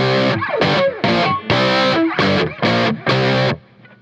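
Lap steel guitar in open D tuning, picked with the thumb through a distorted, effects-laden tone: seven short, choppy muted stabs in a steady rhythm, loud and close, ending in a brief fade.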